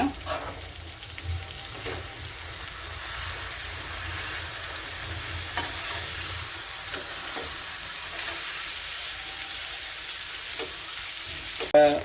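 Pomfret fish tandoori with basil sizzles and crackles steadily in a hot pan, with occasional scrapes and clacks as the pieces are turned, continuous and close.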